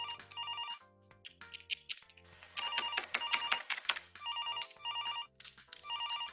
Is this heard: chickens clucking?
no